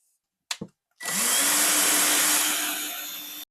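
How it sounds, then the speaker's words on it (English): Power drill boring holes in an IKEA Billy bookcase shelf, with a couple of short clicks and then a steady high whine of the motor running for about two and a half seconds, close and loud. "I'm drilling 2 holes on each shelf."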